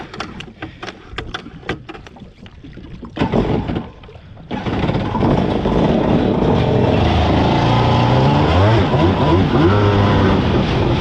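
A repaired SXR800 Bullet RC car engine sputters and pops in short bursts, then catches and runs loud and continuous. Its buzzing note wavers unevenly in pitch, sounding rough.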